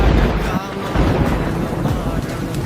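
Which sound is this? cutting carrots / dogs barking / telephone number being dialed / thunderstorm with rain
thunderstorm with rain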